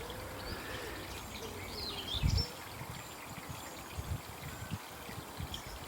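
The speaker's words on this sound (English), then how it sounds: "so I'm just standing here listening and recording the water" Stream water flowing in a local park, a soft continuous trickle and burble heard close, with a faint bird call in the background and a few brief low bumps.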